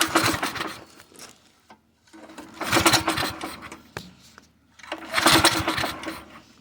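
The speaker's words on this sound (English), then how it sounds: "we're gonna give it a good turnover and see if it does something" A small go-kart engine is cranked over three times in rhythmic bursts of rapid chugging, each pull lasting about a second with short pauses between, close and fairly loud.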